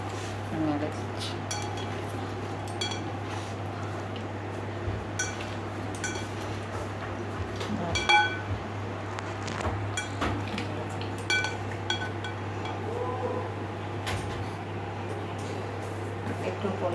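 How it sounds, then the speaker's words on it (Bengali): Chunks of potato and pumpkin are stirred in a bowl, giving light, scattered clinks and scrapes of a utensil against the bowl over a steady low hum. "আলু আর কুমড়ো বোলের মধ্যে দিয়ে দিচ্ছি, আর এটাকে নেড়ে দিচ্ছি।"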